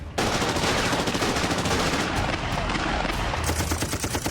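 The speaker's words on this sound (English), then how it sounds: "There was gunfire both from outside the residence" Gunmen and guards trade gunfire outside a residence in a terrorist attack, loud dense bursts of automatic fire crackling nearly nonstop with rapid repeated shots and booms.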